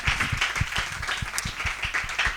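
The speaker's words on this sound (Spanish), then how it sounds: "Un aplauso para él, por favor, por cedernos este espacio." Crowd at a live comedy podcast show applauds, close, busy clapping with distinct hand strikes in an even stream.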